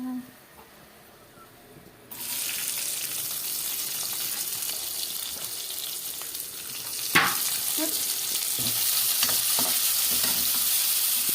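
Onions hitting hot oil already seasoned with cumin, garlic, coriander and chili for an okra gravy, a loud sizzle bursting in after a quieter start, with stirring scrapes and a brief clatter partway through.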